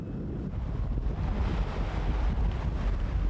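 A small boat crosses the sea near Gwangalli Beach in Busan, heard as a steady roar of wind buffeting the microphone over rumbling engine and water noise, with no voices.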